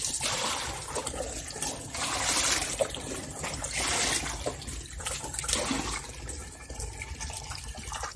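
Water pours steadily into a filling container at a duck and goat farm, a continuous close trickling rush with slight swells and no talking.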